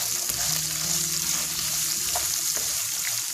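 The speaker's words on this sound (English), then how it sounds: "Then I'm going to mix properly." Grated ginger and green chilies sizzle steadily in hot oil in a pan for farali khichdi, with a few soft stirring scrapes over the continuous frying hiss and no talking.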